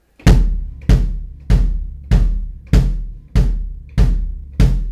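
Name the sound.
bass drum playing quarter notes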